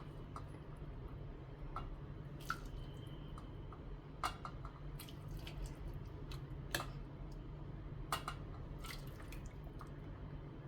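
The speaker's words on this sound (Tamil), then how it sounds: "வாட்டராக இருக்கிறத கொஞ்சம் இப்படி எடுத்து நீங்கள் அதில் ஊற்றிக்கோங்க" Excess cooking water from boiled brinjal and potato for a tiffin side dish is scooped and tipped into a separate vessel, heard as faint, scattered drips and light clicks over a steady low background hum, with no voices.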